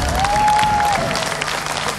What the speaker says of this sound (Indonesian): tepuk tangan untuk Juli